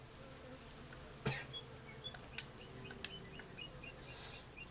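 Bees hum faintly and steadily around a row of beehives, with light bird chirps and a few sharp clicks and knocks scattered over the low buzzing.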